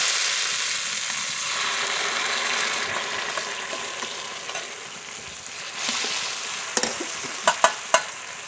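Spice masala sautés and is stirred in a pan for doi katla fish curry, giving a steady, loud sizzle throughout. A few sharp scraping clicks near the end come from the stirring. No voices.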